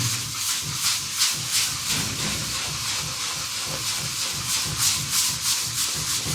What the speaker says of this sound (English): So all we're doing is just sanding until we see that chart tape.